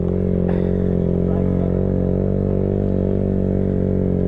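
A motorcycle climbs a very steep hill on a rough trail in Tana Toraja, its loud exhaust droning close and constant as the engine labors uphill with little change in pitch.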